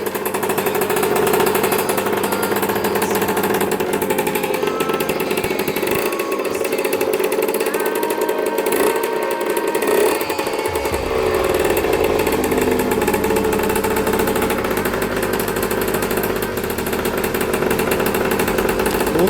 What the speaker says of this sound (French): la moto a démarré.